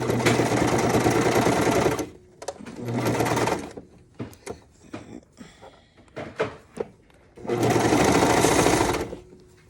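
Sewing machine stitching a romper seam, running in long, loud, steady whirring bursts at the start and end, with a stretch of lighter clicks and handling sounds between, close by.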